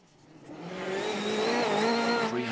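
A WRC rally car on studded tyres, 384 tungsten-tipped studs each, drives on Swedish snow, its engine swelling from quiet to a loud sustained roar with shifting pitch, heard alone.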